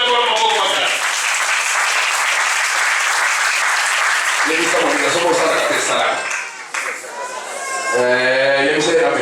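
A church congregation applauds loudly and steadily for several seconds, the clapping thinning briefly before swelling again, with voices and singing mixed in near the end.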